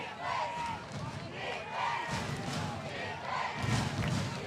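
A football stadium crowd at Memorial Stadium chants "defense" during a Sam Houston vs Harlandale game, a steady roar of many voices rising and falling in rhythmic waves, with a louder swell near the end.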